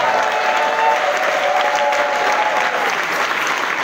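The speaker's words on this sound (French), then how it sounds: "Bénissons le Seigneur avec les acclamations." A church congregation applauds during a novena service, dense and loud clapping held steady for the full four seconds, with a faint held tone running under it.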